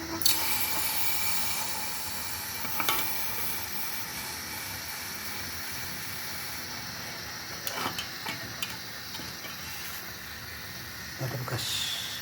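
A heated nail quenched in a workshop lab, giving a steady broad hiss and sizzle that runs throughout, with a few brief clinks and knocks on top and no talk.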